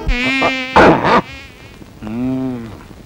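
Mosquitoes buzzing in a comedy film scene: thin, whining drones in separate bursts, bending in pitch and fairly close, with a brief rougher burst between them.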